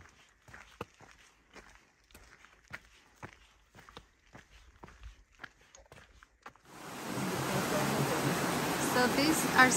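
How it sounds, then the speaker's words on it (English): A waterfall in the White Mountains, New Hampshire, rises as a steady broadband rush in the last few seconds, after a stretch of footsteps on a trail, sounding close and continuous. "So these are supposed to be the ceiling waterfalls."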